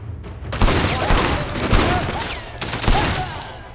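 Rapid, loud gunfire from the action video game Sleeping Dogs, a continuous fusillade of overlapping shots and booms throughout, close and dominant with a voice faintly underneath.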